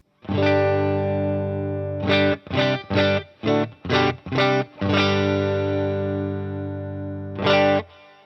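An electric guitar plays a clean tone through a single-channel Studio Vintage amp with a little reverb, sounding a long sustained chord, then a run of short rhythmic strums, another long ringing chord and a final strum.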